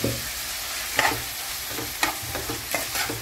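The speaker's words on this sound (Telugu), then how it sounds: "ఆ తర్వాత దోరగా వేయించుకోవాలి." Ginger garlic paste sizzles steadily in a hot pan with mutton while a spatula scrapes and stirs in short rhythmic strokes, close and continuous.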